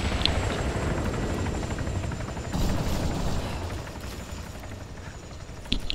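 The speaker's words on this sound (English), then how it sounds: "I think we have a helicopter moving close to get behind this" A helicopter in the video game Arma III fills the scene with a steady rotor thrum, loud and continuous, with a few sharp bangs near the end.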